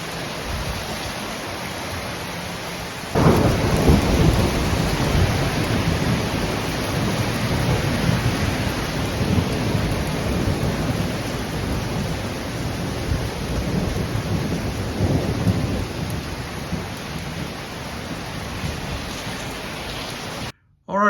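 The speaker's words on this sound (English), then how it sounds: "That's a hailstorm." Heavy hail and rain pounding steadily outdoors during a thunderstorm, a dense continuous roar that swells abruptly after a few seconds and holds loud for most of the stretch, with faint voices underneath.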